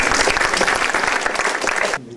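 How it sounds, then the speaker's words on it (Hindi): Loud, dense applause from an audience at a Hindi Diwas celebration, steady hand clapping that fills the room and then cuts off abruptly near the end. "इनका तो जोरदार तालियों से स्वागत होना चाहिए"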